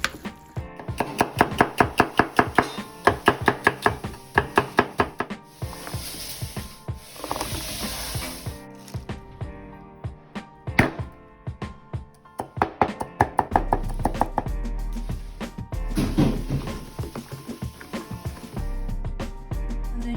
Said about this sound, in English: It's time to stir.